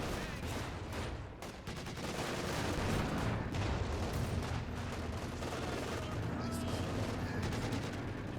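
Machine gun fire in Company of Heroes 2, with dense overlapping bursts of automatic fire and scattered battle shots rattling continuously over a rumbling backdrop, near and sustained for several seconds.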